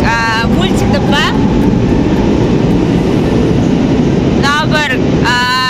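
A Milan metro train rumbles loudly, with steady rolling wheel noise and high squealing brake or rail whines at the start and end.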